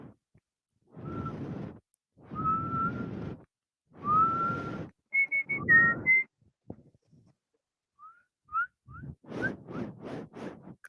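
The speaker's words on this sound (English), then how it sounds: "I was trying to whistle along with it." A person whistles a melody along to a song, with short pitched phrases between louder broadband bursts, fairly near and moderately loud.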